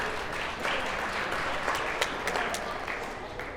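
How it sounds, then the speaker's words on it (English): Audience applause for a choir director at a Hall of Fame event, steady dense clapping from a room of people filling the whole stretch at moderate level. "Let's give him a round of applause."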